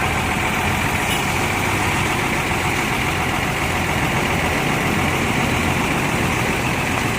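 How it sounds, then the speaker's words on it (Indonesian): A steady, loud diesel drone fills the air from an ALS intercity bus on the Medan–Surabaya route, its heavy engine running continuously up close with no pauses or speech. "Suara mesinnya mantep ya."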